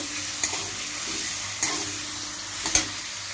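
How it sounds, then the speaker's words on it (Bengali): Potatoes stir-frying in a pan, a steady bright sizzle running throughout with three sharp utensil scrapes spaced about a second apart, close and fairly loud with no voices. "আমি যে রান্না করছি এখন আলু আর এটা ভাজি করছি"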